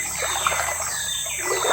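A river trickles and flows steadily close by in dry-season heat, a soft continuous babble with a faint high hum and birds in the background.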